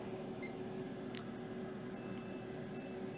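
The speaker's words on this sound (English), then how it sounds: "Oh, we're beeping." Graphics card POST beeps during boot on a repair bench, a few short, faint, high electronic beeps spaced irregularly over steady fan hum.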